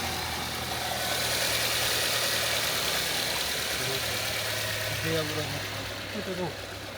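A Subaru Forester engine idles with a steady, even mid-pitched hum and slight vibration, heard close by while someone talks over it throughout.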